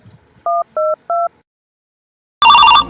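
Three clear keypad beeps ring out as a telephone is dialed, evenly spaced and close, followed after a short silence by a louder, harsher burst of phone sound.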